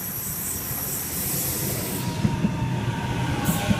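A Sydney Trains A set train arriving at a platform at Pendle Hill station, a loud steady rumble with rhythmic wheel clacks and faint squeal as it rolls in close by.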